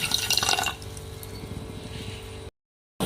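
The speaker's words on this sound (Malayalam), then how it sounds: "അതേ കപ്പിൽ തന്നെ മുക്കാൽ അളവ് വെള്ളവും ഒഴിച്ചു കൊടുക്കാം" Water poured from a cup onto sugar for Mysore pak syrup: a bright splashing gush at first, then a steadier, softer trickle that stops abruptly, with no talking.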